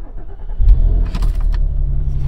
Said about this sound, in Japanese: では、エンジンをかけます。